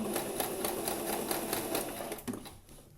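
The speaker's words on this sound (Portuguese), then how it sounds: "abaixa a agulha e continua a sua costura" A sewing machine stitches a zigzag seam in fabric, its rapid, even needle chatter running steadily before slowing and stopping near the end.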